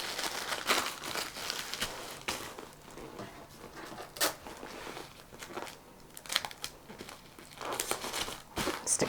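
Tissue paper being crinkled, folded and pressed by hand while wrapping a homemade baby gift basket, close irregular crackling rustles in bursts with short pauses, no voices.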